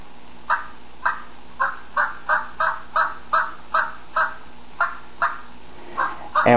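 A series of about fourteen short, evenly spaced hen turkey yelps, clear and fairly close, with a louder burst at the end.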